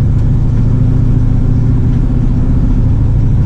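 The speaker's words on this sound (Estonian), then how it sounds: "Kuulge, ma sõidan Camaraga." An old barn-find Chevrolet Camaro engine droning steadily in second gear, a loud, constant low rumble from inside the car with no talk.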